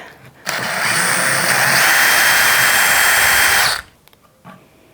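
A power drill fitted with a Kreg tool attachment whirs at a steady high pitch for about three seconds, loud and close, then stops, leaving a few faint handling clicks afterward.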